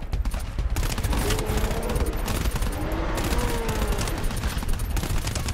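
Automated turrets in the GTFO video game fire at an enemy in a dense, nonstop rapid burst of gunfire, loud and close, with brief shouted voices over the shooting.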